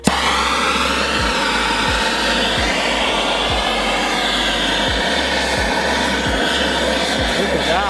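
A gas torch roars steadily with a loud broadband hiss as it lights a pine cone resting on a block of dry ice, with faint low thumps recurring beneath the continuous flame.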